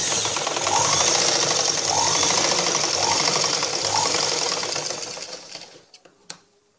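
A sewing machine stitches a blouse belt in a fast, steady mechanical whir that runs for several seconds, then slows, stops and ends in a few clicks.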